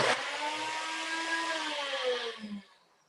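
A kitchen blender whirs steadily while blending pesto ingredients, a loud, continuous motor drone with rising pitch that runs for over two seconds before winding down and cutting off, with no talk over it.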